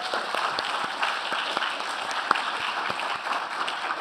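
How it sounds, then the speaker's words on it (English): Audience applause at a DC STEM summit, an even, continuous patter of many hands clapping at moderate loudness, sustained without breaks and with no voices on top. "Can we give them one more round of applause?"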